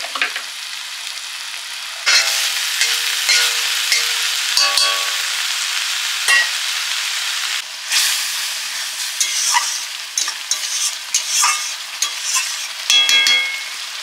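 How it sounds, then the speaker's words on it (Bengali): Spice paste with tomato and salt, loosened with water, sizzles and fries in a pan as a spoon scrapes and stirs it in repeated bursts, close and fairly loud with brief quieter pauses between stirs. "জল দিয়ে মশলাটা কষে নিচ্ছি।"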